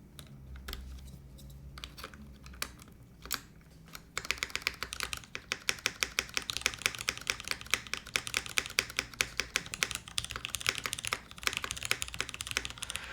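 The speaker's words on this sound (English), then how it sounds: "Let's switch back to our cherry switch too, just to get a better sense of what the cherry sounded like." Rapid typing on a Milan TKL tenkeyless mechanical keyboard fitted with Cherry switches, a few sparse keystrokes first, then a dense, steady clatter of close, crisp clicks and thocks carrying on alone to the end.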